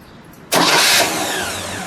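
A 1966 Studebaker Commander two-door's engine cranks and catches abruptly, jumping into a loud, close roar before settling into a steady, even idle.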